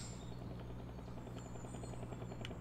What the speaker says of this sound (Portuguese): que barulho é esse? Olha o drone do Galaxy